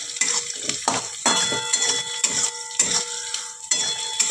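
Chopped green chillies and onion go into hot mustard oil and are stirred, giving irregular metallic scrapes and knocks of a spoon against the pan over a light sizzle.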